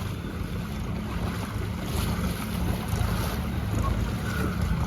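Floodwater after heavy monsoon rain in Amalsad rushes steadily in a loud, continuous roar mixed with wind noise and no talk.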